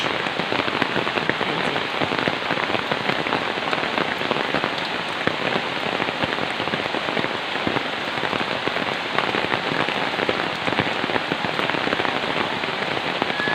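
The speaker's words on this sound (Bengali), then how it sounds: "মেঘলা দিনে মেঘলা আকাশ বৃষ্টি ঝরঝরিয়ে ঝরছে" Steady heavy rain pours down on a cloudy day around a flock of Chinese and local ducks, a dense, continuous close patter on surfaces with no pauses and no voices.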